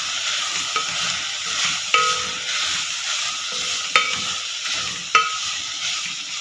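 Beef keema with soy sauce sizzles in a pan under a steady hiss, while a spoon stirs it with a few distinct scraping knocks at intervals.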